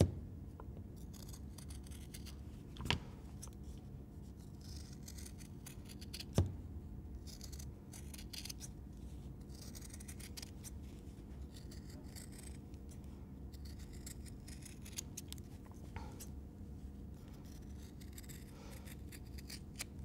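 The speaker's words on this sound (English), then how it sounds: "I might use my sturdier scissors as I've got a bit of wadding there" Sturdy scissors cutting through layered fabric and wadding for mini oven mitts, a faint close run of soft snips and rubbing with a couple of sharper clicks along the way.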